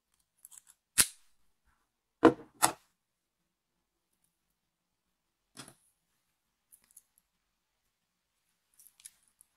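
Memory wire for a bracelet is snipped with cutters in a few sharp, isolated clicks spread across quiet, with faint small handling ticks between them.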